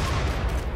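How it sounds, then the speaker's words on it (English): Doomsday rocket launcher firing and exploding in the Rimworld video game, a dense continuous rumble of blasts with low booming weight throughout, loud and close, alone without talk. "Equip doomsday rocket launcher. And now, we're going to fire that sucker right there."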